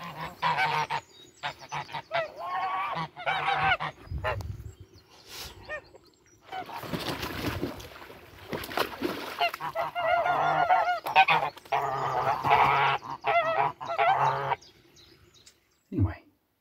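Geese honk in loud bursts and clusters, close by in a forest garden in May, mixed with bird calls and some background noise, with a gap before a final sharp honk.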